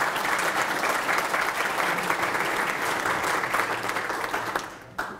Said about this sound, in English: That deserves a round of applause for all that you have done.